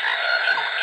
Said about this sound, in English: Sound like frogs.